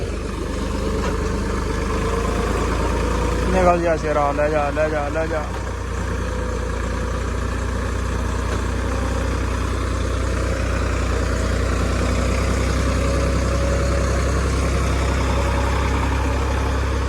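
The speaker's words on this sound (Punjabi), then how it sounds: "ਪੂਰਾ ਜ਼ੋਰ ਲੱਗਣ ਦਿਆ ਟਰੈਕਟਰ ਦਾ" A tractor engine labours under heavy load in wet, muddy ground, a deep steady drone that holds constant and loud, with someone shouting encouragement over it early on.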